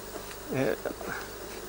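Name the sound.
honey bees buzzing around a beehive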